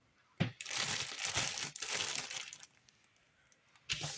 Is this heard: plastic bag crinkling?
yes